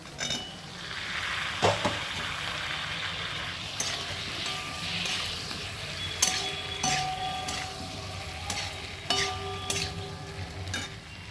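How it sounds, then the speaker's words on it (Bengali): Fried potatoes hit hot spiced oil for a prawn curry, giving a steady close sizzle with repeated clinks and scrapes of a utensil against the pan. "এবার দিয়ে দেব ভেজে রাখা আলুগুলো"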